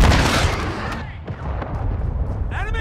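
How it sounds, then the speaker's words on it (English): A cruise missile explodes in a Modern Warfare 2 team deathmatch on the Farm map, a loud close boom with a long rumbling roar that fades, then a few sharp cracks of gunfire near the end. "Friendly cruise missile approaching target."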